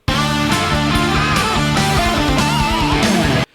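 Solo phrase on electric guitar, a busy run of picked notes and bends with a full, driven tone, steady and loud throughout before stopping abruptly.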